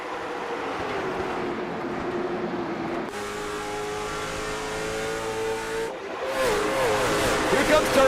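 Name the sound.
race cars taking the green flag at Five Flags Speedway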